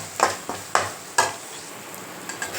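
Curry leaf thokku is stirred in a pan: about five distinct scraping strokes spaced across the clip, each a short rasp over a soft, steady sizzle, close and fairly loud with no talk.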